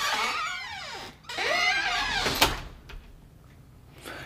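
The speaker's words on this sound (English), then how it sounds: "So we'll open our front door." A front door fitted with a Lyric LCP500L security system sensor is opened, giving a sliding, scraping creak in two sweeps and then a sharp knock or latch click, followed by quiet.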